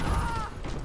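An electric vehicle being repaired in Dirty Bomb gives a brief mechanical whirring and ratcheting with a faint tonal hum, under a second long.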